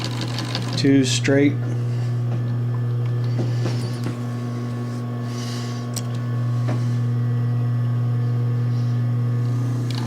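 A Pfaff sewing machine driven by a clutch motor hums steadily through a zigzag stitching run, with a brief burst of faster stitching early on and a person talking over the continuous drone.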